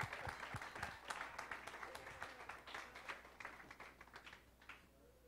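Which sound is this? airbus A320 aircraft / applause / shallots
applause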